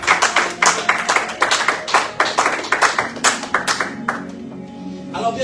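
A church congregation claps together in a fast, steady rhythm at a family service, loud and close, before the clapping tapers off near the end.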